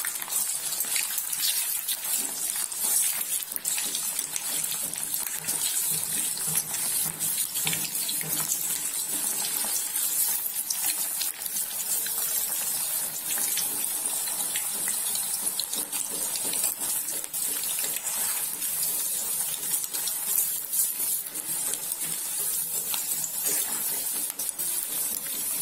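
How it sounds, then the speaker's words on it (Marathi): Dal baati frying in hot oil gives a steady, dense sizzle and crackle that runs unbroken at a fairly even level, with no voices over it. "म्हणजे तळून घेऊया छान।"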